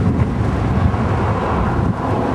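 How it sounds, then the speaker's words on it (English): Strong, gusty wind buffets the microphone on a bridge crossing into Washington, a steady, loud broadband roar that swells and surges without a break. "As you can probably tell, the winds are really gusty."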